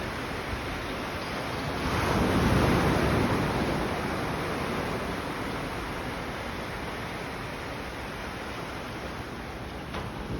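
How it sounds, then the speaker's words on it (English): Ocean waves wash onto the shore at Veracruz, a steady broadband surf roar that swells louder around the second to third second, then settles into a continuous, fairly close wash with wind, and no voices. "I'll give you a few seconds just to listen to the waves."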